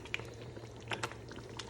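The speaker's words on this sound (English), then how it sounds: "They're going to be splatters now." Carrot halwa splattering as it cooks in a pan, quiet bubbling with a few sharp pops and spits over a low steady hum.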